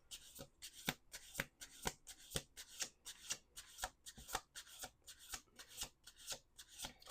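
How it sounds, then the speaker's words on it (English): Tarot cards are shuffled in a steady rhythm of crisp riffling bursts, close and fairly quiet, with no voices. "Last shuffle."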